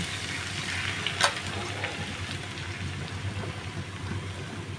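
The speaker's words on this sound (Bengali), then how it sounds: "আমি একটু প্রথমে এইগুলো একটু লবণ হলুদ দিয়ে একটু" Bok choy frying in a pan with salt and turmeric, a steady close sizzle throughout with a brief louder crackle near the start and no talking.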